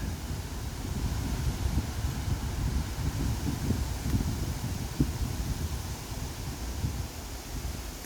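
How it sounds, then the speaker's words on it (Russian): Strong storm wind at Lake Seliger in August, roaring steadily and loudly, a dense rushing noise with low buffeting against the microphone and no voices. "О, как бушует ветер."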